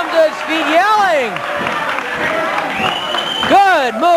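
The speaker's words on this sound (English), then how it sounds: "The crowd comes to its feet yelling." Wrestling arena crowd rising and yelling during a Kerry Von Erich match, the crowd noise beneath prominent commentator speech throughout.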